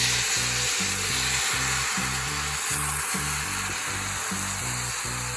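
Lemons dropped into hot chili oil in a pan for Kerala-style lemon pickle, with the flame already off, sizzle loudly and steadily with a close, continuous frying hiss over a soft pulsing rumble.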